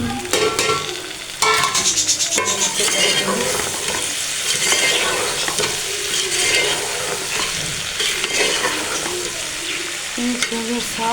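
Chopped onion, tomato and green chilli sizzle and fry in a pan with okra, a dense crackling hiss stirred repeatedly with a utensil scraping and clinking against the pan throughout.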